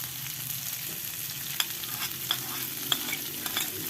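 Leunca stir-fry with sliced red and green chilies, salt, palm sugar and bouillon powder is stirred in a pan: a steady close sizzle with a few sharp clinks and scrapes of the utensil against the pan.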